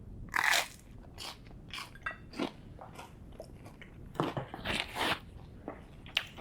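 Crunchy bites and chewing of toast spread with Sunpat peanut butter, several sharp close crunches in an irregular rhythm, loud and alone with no talk.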